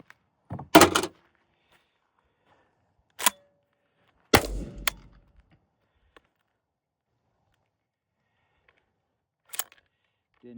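Mossberg 990 Aftershock shotgun fires in sharp, widely spaced single blasts with mechanical clacks between them as the action cycles and fails to eject, heard outdoors with long silent gaps.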